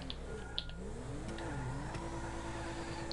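A car engine in a racing video game hums and revs up, its pitch sliding and rising briefly, with a few small ticks, fairly quiet throughout.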